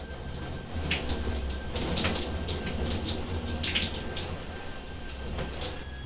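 Running water pours steadily from a tap, a continuous splashing rush with small surges, nearby and fairly loud, no voices.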